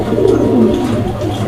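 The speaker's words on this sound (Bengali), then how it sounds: "নরটা ডাকতেছে দেখতে পাচ্ছেন, এটা নর এবং এইটা হচ্ছে মাদি কবুতর" A male fancy pigeon coos close by, a low rolling throaty call repeated in a short steady phrase, loud and clear with no talk over it.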